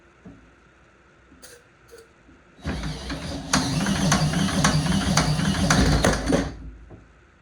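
A 1949 Gravely Model L walk-behind tractor engine, primed with starting fluid, turns over with a loud, rapid mechanical clatter lasting about four seconds after a quiet start, then cuts off abruptly.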